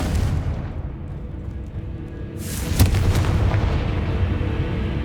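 Confringo explosion spell cast in Hogwarts Legacy, a sharp blast with a booming burst after a low rumbling stretch, followed by lingering crackling debris, loud with no speech.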